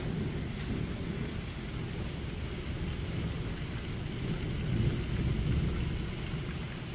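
Steady rain pours down outdoors with a low rumbling undertone like distant thunder, a dense continuous wash that swells slightly midway, with no voices.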